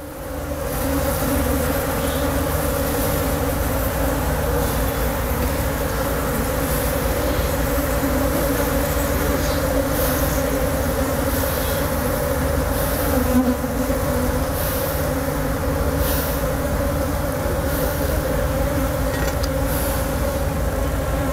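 A colony of Apis cerana indica honeybees buzzes around a hive box during capture, a dense continuous close drone of many wings that holds loud and steady throughout.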